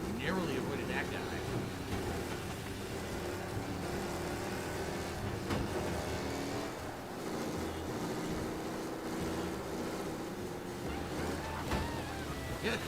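A car drives in a mafia-themed pig video game, its engine a steady, low, rushing drone that carries on without a break under people talking.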